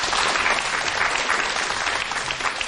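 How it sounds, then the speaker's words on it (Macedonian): Studio audience applauding on a Macedonian TV music show, a dense, steady wash of clapping filling the whole stretch at close range. "Другари, ова заслужува еден огромен аплауз."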